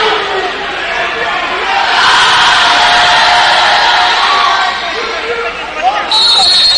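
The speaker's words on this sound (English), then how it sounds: "A new cheer I've heard from the student section before" A student section at a college basketball game between Northeastern State and Lincoln University chants and cheers in a loud, sustained roar that swells midway, while an announcer talks over it.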